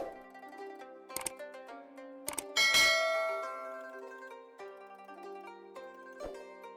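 A chiming notification bell rings out in several bright metallic strikes with long ringing tails, the loudest cluster near the middle and one more strike at the end, with no voices present.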